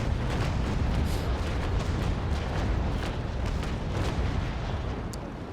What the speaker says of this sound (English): I'm now aligning my cannons and fire